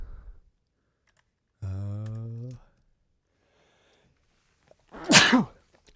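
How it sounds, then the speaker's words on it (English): A single sharp sneeze bursts out near the end, loud and close, after a brief hum and some quiet clicks, in a music production studio. "Oh, I'm going to have to sneeze."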